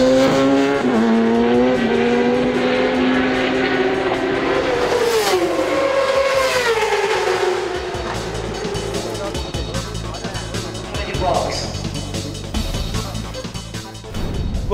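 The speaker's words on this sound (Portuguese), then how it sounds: "No último final de semana no Autódromo Internacional de Interlagos, na Grande São Paulo, aconteceu a corrida de 500 milhas de moto velocidade." Racing machines at the Interlagos circuit in São Paulo during a 500-mile motorcycle race scream past, revving, rising and falling as they pass close by, then fade into quieter track ambience.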